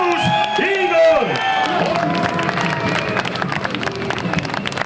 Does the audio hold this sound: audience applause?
yes